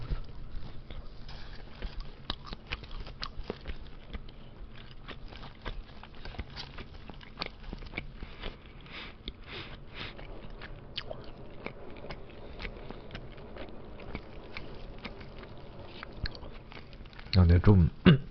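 Someone chews and bites finger chicken up close, with soft repeated crunchy, sticky mouth sounds throughout and a louder handling noise near the end.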